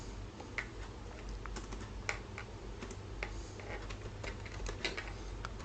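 Keys clatter on a computer keyboard as a bill number goes into accounting software, a quick irregular run of close, crisp clicks over a low steady hum.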